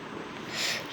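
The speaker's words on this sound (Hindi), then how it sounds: "एक पानी का झरना बन गया" Water gushing from melted ice broken by hand forms a small waterfall in Minecraft, a steady broadband rush that swells slightly louder toward the end of the brief moment.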